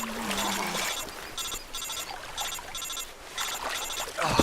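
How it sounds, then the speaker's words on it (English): A phone rings in the stealth video game Metal Gear Solid Delta, a repeating electronic ring in regular bursts over a steady jungle ambience of trickling water, fairly loud and with no speech. "Answer your phone."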